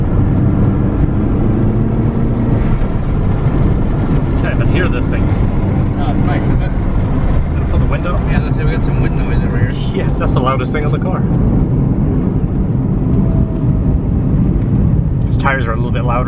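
Stock K24-swapped Honda EP3 Civic driving, heard from inside the cabin as a steady, fairly quiet engine and road drone running continuously, with people talking over it.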